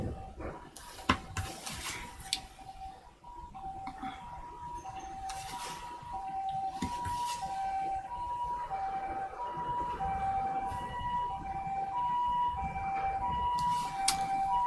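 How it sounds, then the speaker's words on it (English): An ambulance siren wails steadily in the distance, its alternating two-tone pattern repeating over continuous traffic rumble for the whole stretch. "There's been ambulances all over here this morning."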